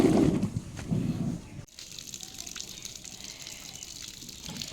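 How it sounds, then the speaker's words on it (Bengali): Water gushes hard from a household tap during home cleaning, loud and close for the first second and a half, then drops to a thinner steady trickle. "ওই কলটাও চালিয়ে দাও, ওইটাই স্পিড আছে ওই কলটায়"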